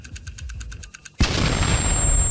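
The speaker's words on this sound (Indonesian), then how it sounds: "Di Jalan Linjiang, sebuah mobil kecil meledak." A small car explodes on a city road with a sudden sharp blast followed by a sustained roaring rumble, preceded by faint rhythmic ticking.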